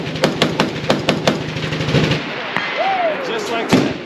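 An M1919 machine gun fired from a WWII M3 halftrack, several sharp loud shots in quick irregular bursts at an outdoor range, then quieter handling noise, a brief whine and a final shot.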